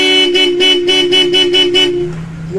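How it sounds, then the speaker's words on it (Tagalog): A car horn honks in a rapid series of short toots, about seven in a row, loud and close, then stops. "Ayun o, may busina."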